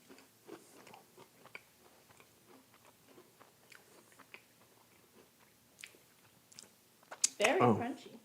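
Crunchy chocolate chip cookie being chewed close to the microphone, soft crunches scattered through the clip, ending in a loud burst of crunching; no one speaks.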